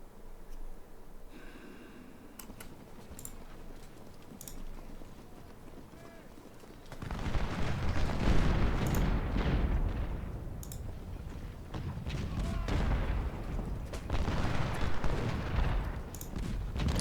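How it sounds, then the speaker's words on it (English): Carbine rifles crackle in rapid volleys during a Civil War battle in the strategy game Ultimate General: Civil War, dense bursts of gunfire building from a quieter stretch into loud sustained firing. "The rate of fire of those carbines is withering."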